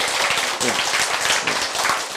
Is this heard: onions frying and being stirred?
no